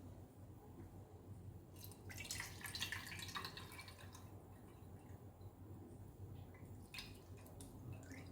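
Soaked cucumber drink trickles through a strainer into a vessel, with quiet bursts of splashing and dripping that rise and fall over a low background hum.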